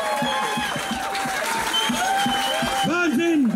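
An audience claps and cheers with scattered whoops at a German local TV magazine event. The applause is steady and fairly loud, with voices calling out over it throughout.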